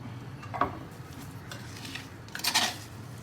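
Prawns being mixed with coconut oil in a bowl, with a couple of soft scraping and clinking stirs close by, the second burst louder, and no talking.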